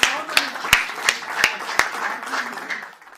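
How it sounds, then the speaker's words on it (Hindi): A poetry gathering's audience claps to welcome a poet: a sparse, fairly faint run of distinct claps at a brisk rhythm, fading out after about three seconds. "एक बार बहुत जोरदार तालियां बजाकर वीरेंद्र जी को कविताओं के लिए आमंत्रित करिए"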